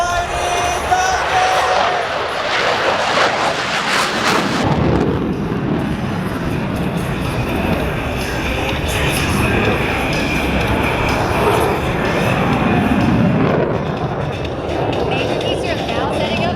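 F-16 fighter jet flying an airshow demonstration, its loud broadband roar building as it passes, then holding as a steady, rumbling jet noise for the rest of the stretch, with a crowd or announcer faintly beneath.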